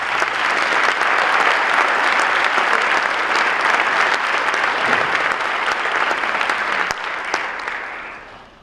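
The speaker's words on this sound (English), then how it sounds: "If we can give them another round of applause" Sustained applause from an audience at a school district event, dense and steady throughout before tapering off at the end.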